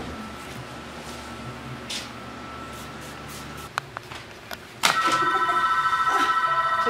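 A telephone rings in a hair salon, starting with a quieter background hum and a few clicks before a loud, steady electronic ring repeats rapidly near the microphone.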